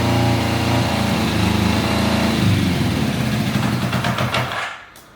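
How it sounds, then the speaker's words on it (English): A Kawasaki GT550 four-cylinder motorcycle engine idles with a steady, even hum, then cuts out and falls quiet near the end. "the engine does actually sound quite sweet"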